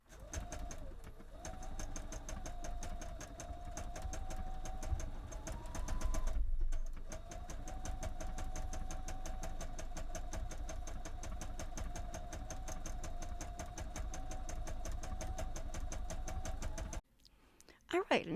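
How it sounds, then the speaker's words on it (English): A sewing machine stitches darker pink thread onto a doll's sundress skirt, a steady mechanical whirring hum with a rapid needle rhythm that runs continuously, briefly pauses, then stops near the end. "I'm going to add some darker pink thread on my sewing machine and just add a little whimsy to her skirt"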